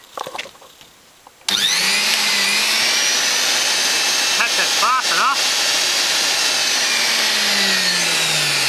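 A blender motor, fitted to a homemade router table, switches on after a second of quiet and runs steadily at high speed with a loud even whine, with a few brief wavering sweeps midway.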